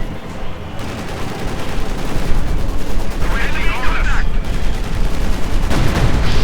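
Tank guns fire in a Company of Heroes 2 battle between an IS-2 and Panzer IVs, loud continuous booms and rattling gunfire layered with a dense wash of game noise throughout.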